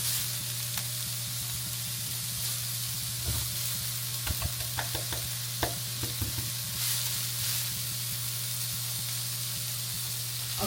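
Fresh rosemary and thyme sauté in a pan with a steady sizzle, while a utensil scrapes and stirs through them in scattered bursts of clinks. No voices.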